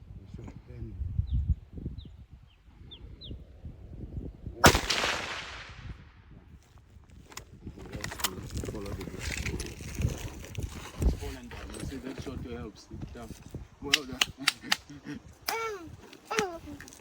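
Rifle shots from a .318 Westley Richards during a sable hunt in Niassa, with one loud sharp report standing out among outdoor noise and speech from the hunters.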